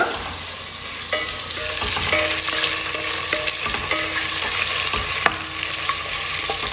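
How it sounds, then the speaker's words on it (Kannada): Onions and green chillies sizzle steadily in a hot pan, a continuous frying hiss broken by occasional scraping clinks of a spatula stirring, close and moderately loud with no voices. "ಒಂದು ನಾಲ್ಕು ಹಸಿಮೆಣಸಿನ್ಕಾಯಿ ಹಾಗೆ ಕಟ್ ಮಾಡಿರೋ ಈರುಳ್ಳಿ ಎರಡು ಹಾಕೊಳ್ಳೋಣ ಈರುಳ್ಳಿ ಸ್ವಲ್ಪ ಕಲರ್ ಚೇಂಜ್ ಆಗೋವರೆಗೂ ಹುಡ್ಕೊಳ್ಳೋಣ"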